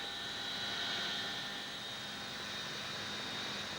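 A loud, steady roar of a helicopter lifting off, with broadband rushing noise, continuous and close, no voices.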